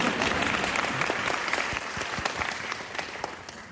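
An audience claps steadily and densely at a Tamil-language talk about a Murugan temple project in Carolina. Fairly distant and moderately loud, the applause holds even for close to four seconds with no voice on top.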